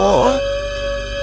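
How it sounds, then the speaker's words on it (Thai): A dog howls with a long, wavering tone that dips and then settles into a sustained steady pitch, loud and close over a faint hiss. "เสียงหมาหอนตอนรับเลย"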